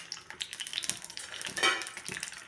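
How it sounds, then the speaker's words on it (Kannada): Cumin and mustard seeds crackling in hot oil for pumpkin sambar, a dense, close scatter of sharp pops and sizzling with a brief louder spitting burst midway. "ಜೀರಿಗೆ, ಸಾಸಿವೆ ಚಟಪಟ ಅಂತ ಸಿಡಿದ್ಮೇಲೆ"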